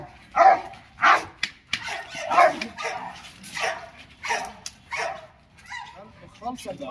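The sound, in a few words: dog barking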